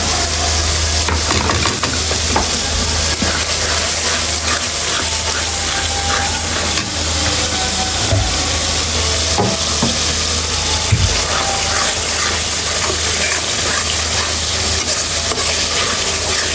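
Thick masoor dal bhuna with fried masala and homemade garam masala powder being stirred in a pan, giving a steady, loud sizzle and frying hiss with scattered scraping strokes of a spoon throughout, no talking.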